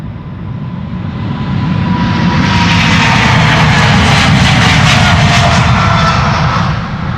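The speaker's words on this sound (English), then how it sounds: "First Delta A350 in a while is also coming this way." Delta Airbus A350 jet at Schiphol Airport, a loud broad engine roar that swells and holds steady before easing slightly, heard alone.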